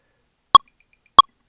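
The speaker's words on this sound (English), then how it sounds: "if I turn up the volume of this, we will hear this quintuplet subdivision here" Two identical sharp electronic metronome clicks from the PolyNome app, spaced about 0.65 seconds apart, sounding clear and isolated against silence with no talk.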